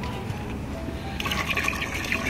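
Water pours into a bowl being refilled, a gurgling liquid stream that starts softly and grows brighter and splashier partway through, close by with no talk.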